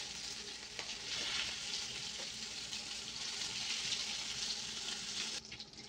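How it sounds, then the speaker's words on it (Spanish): Constant crackling sizzle of small sardine fritters frying in hot oil in a pan, close and steady, with a faint clink near the end. "las voy a ir agregando al sartén para que se vayan friendo"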